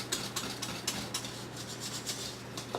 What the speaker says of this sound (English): give it another good whisk